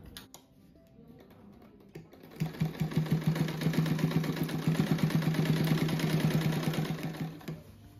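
Sewing machine stitching a patchwork quilt, starting after a quieter moment and then running steadily for about five seconds with a rapid, even needle rhythm close by, then slowing to a stop.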